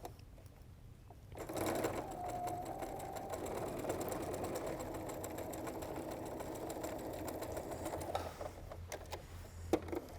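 A sewing machine stitches a quarter-inch seam on quilt pieces, starting after a short pause and running in one steady, close mechanical whir for several seconds before slowing and stopping with a few clicks.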